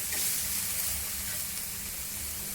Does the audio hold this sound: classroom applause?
no